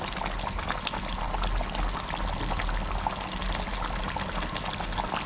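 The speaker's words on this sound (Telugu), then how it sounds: "పునుగులు కూడా వేసేస్తున్నాను, ముడకాలి కదా." Chana dal punugulu simmering in a potato curry, a steady bubbling, pouring-like liquid sound that continues without pause.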